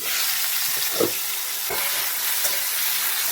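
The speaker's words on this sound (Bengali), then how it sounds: "ভালো করে ভেজে নিচ্ছি" Raw green mango pieces frying with salt in a pan for chutney, a continuous sizzle broken by a few soft scrapes of stirring.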